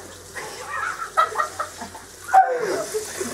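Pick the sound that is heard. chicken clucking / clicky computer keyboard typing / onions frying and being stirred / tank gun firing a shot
chicken clucking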